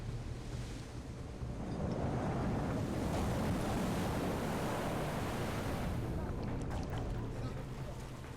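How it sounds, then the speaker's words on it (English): Wind and ocean waves at sea aboard a fishing boat, a loud continuous roar of surf and gusting wind buffeting the microphone, steady throughout. "The wind and waves catches the crew off guard, so they are forced to draw their nets in early."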